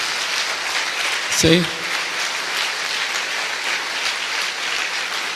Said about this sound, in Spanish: Denle un aplauso a estas personas que hicieron la oración.